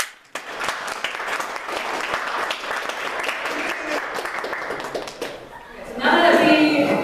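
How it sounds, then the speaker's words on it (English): An assembly audience claps together in a steady round of applause that runs for several seconds, then surges louder in a dense final burst of clapping. "We give everybody a round of applause for everything."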